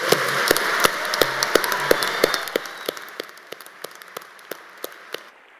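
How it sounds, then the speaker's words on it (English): Applause for a graduating class of 2025 at a university graduation ceremony, a broad crowd clapping that swells loudly then gradually thins out, with a few individual sharp claps standing out as it fades. "Let's give this group a loud round of applause."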